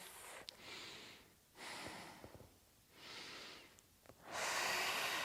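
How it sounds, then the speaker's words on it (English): Slow, steady breathing during a yoga twist pose, three or four soft airy breaths close by, each a hissing in-and-out swell, the last one the loudest. "Steady breaths."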